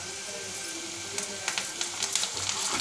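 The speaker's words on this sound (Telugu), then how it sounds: "కరివేపాకు వేస్తున్నాను" Curry leaves hit hot oil in a pan for a tamarind-leaf dal, giving a steady close sizzle and crackle with sharper spitting pops that pick up toward the end.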